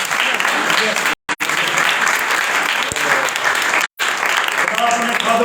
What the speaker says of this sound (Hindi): ताली मार दीजिए